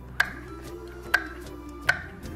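A knife chops a chilli coarsely on a board in three sharp, evenly spaced strikes, close and distinct against a quiet background.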